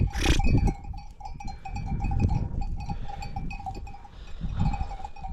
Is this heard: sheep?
yes